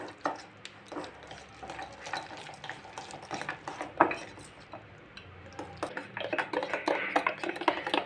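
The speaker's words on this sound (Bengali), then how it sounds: "ব্যাটারটাকে কিন্তু এইভাবে ভালোভাবে ফেটিয়ে নেব" Gram flour batter for boondi is whisked briskly in a bowl, giving close, quick irregular taps and scrapes of the whisk against the side that quicken toward the end.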